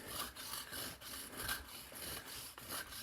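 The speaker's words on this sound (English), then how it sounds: "bowing a copper hollow drill through an antler guide into a bit of sandstone" A copper hollow drill is bowed back and forth through an antler guide into sandstone, giving a faint, close, rhythmic rasping grind with regular strokes about every half second.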